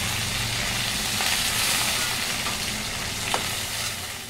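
Cumin, bay leaves and dried red chillies crackle and sizzle in hot oil in a wok, a steady bright hiss filling the clip with a few sharper pops, close up and without any talking.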